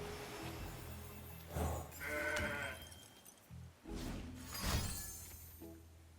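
A goat card bleating in the Legends of Runeterra video game: several drawn-out bleats over a soft game soundtrack, with no talking.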